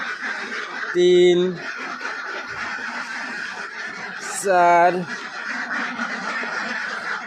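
Ducks on a farm holding about 250 birds give two loud bursts of quacking, one early and one midway, over steady background noise with someone talking throughout.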